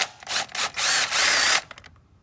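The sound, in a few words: power tool removing coil pack bolts on Dodge HEMI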